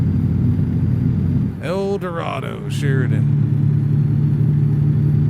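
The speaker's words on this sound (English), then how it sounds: "Truck engine rumbles pretty loud." A simulated semi-truck engine in a truck-driving game rumbles low and steady throughout, loud and constant, while someone briefly speaks over it midway.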